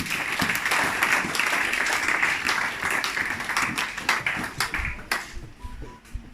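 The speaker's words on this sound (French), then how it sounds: "Acclamons pour la parole de Dieu" A church congregation breaks into loud, sustained applause during a sermon, a dense wash of many hands clapping that thins into scattered individual claps near the end.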